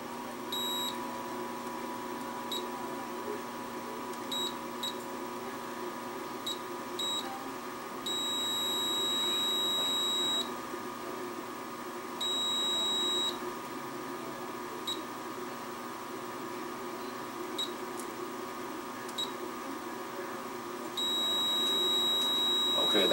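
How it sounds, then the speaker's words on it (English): Multimeter in continuity test mode beeping while probing a TV's T-Con board and LCD panel connections, several short chirps and a few sustained tones of a second or more, close and clear over a steady background hum. "Get our meter on continuity."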